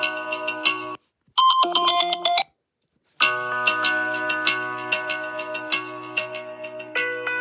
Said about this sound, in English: Yeah, I've got over the horizon on my ringtone now.